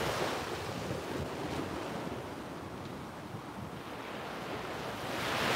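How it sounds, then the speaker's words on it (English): Ocean waves breaking on the shore outdoors, a steady broadband wash of surf mixed with gusting wind across the microphone, continuous with no talk. "The waves sound beautiful today, don't they?"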